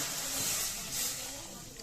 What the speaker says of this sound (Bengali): এই কড়াইতে আমি প্রথমে দুধ দিয়ে দিচ্ছি